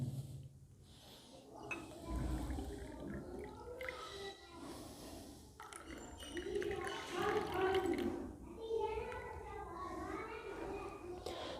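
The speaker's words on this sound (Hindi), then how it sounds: "जितना दूध है इतना आपने इसमें पानी ऐड कर लेना है" Water is poured into cups of milk, giving soft trickling and dripping that comes and goes at a low level, with voices talking nearby.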